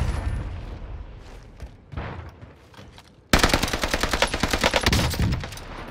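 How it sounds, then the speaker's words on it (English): Video game gunfire on Rebirth Island: a quieter stretch with scattered shots, then a sudden loud, dense run of rapid automatic fire that keeps rattling steadily to the end. "Alright, stop shooting."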